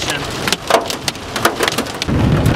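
Heavy thunderstorm rain pours steadily with dense patter on surfaces, dotted with sharp drop hits and a low rumbling swell near the end, loud and close with no talking.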